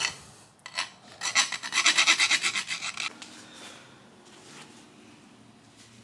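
A file cuts a chamfer around the edge of a Bridgeport milling machine part, a burst of rapid rasping strokes up close that builds, then trails off into quieter scraping.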